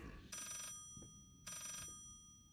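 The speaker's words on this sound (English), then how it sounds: "there goes the phone" Old-style telephone bell ringing in the horror game Layers of Fear, two bright metallic ring bursts separated by a short pause, faint and set against quiet room ambience.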